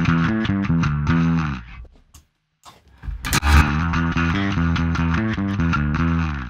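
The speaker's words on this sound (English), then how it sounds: "let's turn the Dark Glass style distortion up and hear the difference in the low" Electric bass played through a Dark Glass style distortion in the Aurora DSP Mammoth plugin, a loud, thick, gritty tone with steady repeated notes, a short silent pause partway, then the same driven riff resumes.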